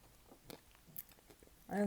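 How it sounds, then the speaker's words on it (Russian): Someone bites into and chews edible pink clay, making a few soft, close crunches and bites spaced across a brief moment, with a louder sound at the end. "Кусаю все понемногу."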